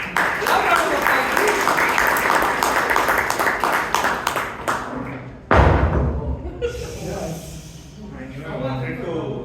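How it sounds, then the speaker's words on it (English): Audience applause at a Toastmasters club meeting in Bangalore, a lively round of clapping that fades out after a few seconds, then a loud thud and quieter room noise with some voices. "Loud round of applause"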